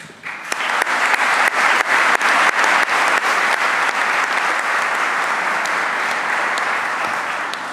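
Loud, sustained applause from a crowd at a police award ceremony in La Plata, dense clapping that holds steady throughout with no talking over it.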